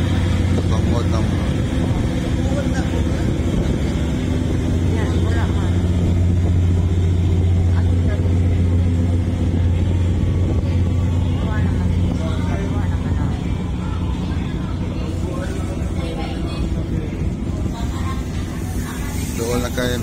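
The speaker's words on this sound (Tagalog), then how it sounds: "Ay niagi nga ocean jet." An OceanJet fast ferry passes by on open water, a loud, steady engine roar with rushing spray that swells and then eases slightly over about twenty seconds, with faint voices in the background.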